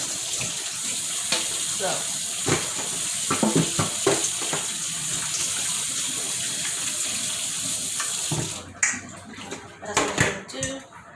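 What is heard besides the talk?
rinsing pepper steak beef strips under running tap water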